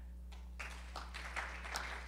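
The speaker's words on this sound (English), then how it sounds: "please clap" A keynote audience of several people starts to clap, giving scattered claps that grow a little denser, heard fairly quietly over a steady low room hum.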